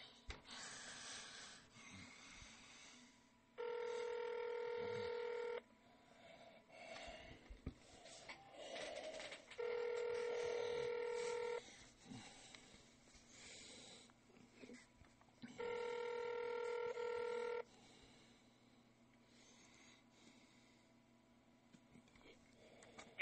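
Telephone call tones sound on a forwarded call to a Mitel voicemail system: three long, loud steady tone bursts at regular intervals, with faint breathing and low background noise between them.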